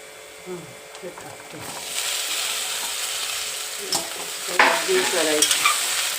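Okra and green chilies drop into a hot pan and start frying, a rising sizzle with stirring scrapes and clatters of the spatula, after a few soft knocks and a person speaking at the start.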